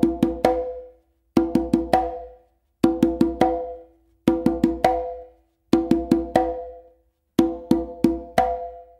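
Conga drum played in a short exercise of open tones finished with an open slap by the opposite hand, six evenly spaced bursts of four quick strokes each, loud and close with clean gaps between groups.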